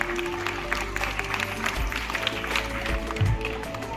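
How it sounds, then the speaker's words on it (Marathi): Schoolchildren at a Women's Day programme in a Satara school clap together in a dense, fairly soft patter, with some background voices mixed in. "यांच्यासाठी एकदा सगळ्यांनी टाळ्या वाजवा"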